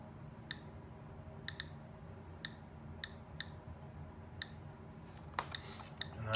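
A radiation detector clicks irregularly beside a Japanese Pentax camera with an M42 lens mount, sharp isolated ticks spaced unevenly, growing slightly busier with a rustle and louder click near the end, close and fairly quiet.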